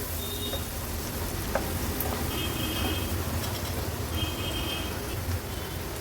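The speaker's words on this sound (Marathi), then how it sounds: "आता हळद आणि मसाला तेलावर छान आपल्याला परतून घ्यायचा आहे।" Turmeric and masala spices sauté in hot oil for an Agri-Koli style ghol fish curry, giving a steady, dense sizzle and frying hiss that runs unbroken through the whole stretch, with a few faint clinks and no talking.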